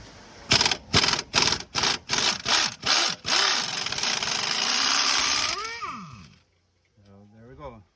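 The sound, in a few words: impact air hammer removing bolt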